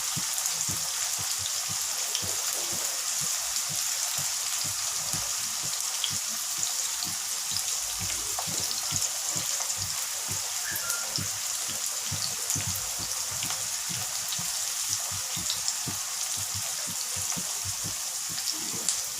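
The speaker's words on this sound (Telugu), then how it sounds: "ఉల్లిపాయలు వేగుతున్నాయండి" Onions frying in oil in a home kitchen, a steady, dense crackling sizzle with fine popping, constant and fairly close, with no talking.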